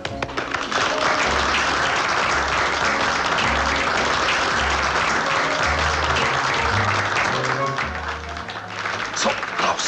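Steady, full applause from a fashion-show audience in a 1961 German film, evenly loud throughout with faint voices mixed in.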